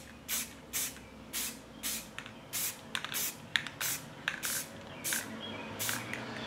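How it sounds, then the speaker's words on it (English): Short bursts of spray paint hiss onto wood in a quick, regular rhythm, about a dozen brief sprays close by with small pauses between them. "I'm gonna just kind of flash spray it real quick for the first coat."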